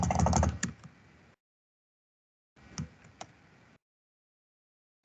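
Typing on a computer keyboard while writing SQL Server commands: two close bursts of quick plastic key clicks separated by a silent pause.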